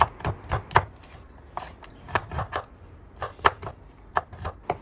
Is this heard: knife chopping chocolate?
yes